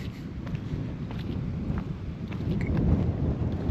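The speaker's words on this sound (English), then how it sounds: "The wind's blowing like crazy today though." Strong wind gusting at Indian Mountain State Park in Tennessee, a steady broadband rush and rumble buffeting the microphone throughout and swelling louder toward the end, with no voices.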